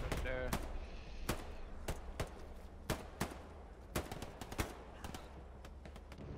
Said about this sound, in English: That was a good bombing run.